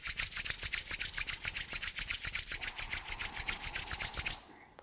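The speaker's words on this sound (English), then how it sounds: "Rub the palms together." Palms of two hands rubbed briskly together during a breathing and movement class, a close, loud swishing friction in about two dozen even back-and-forth strokes that stop abruptly.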